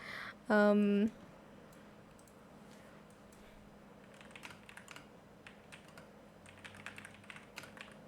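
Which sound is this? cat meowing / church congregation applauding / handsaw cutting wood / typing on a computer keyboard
typing on a computer keyboard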